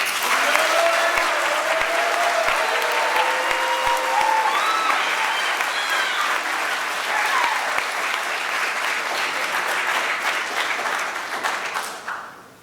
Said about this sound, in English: Winners, will you please rise and receive our applause?